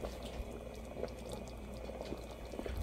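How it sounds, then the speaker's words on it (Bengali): Liquid bubbling steadily in a pot as it reaches a boil, with a little sugar stirred into a roast dish for a festive pulao meal; continuous soft rolling bubbles, close and moderate, with no voices. "বলক এসে গেছে।"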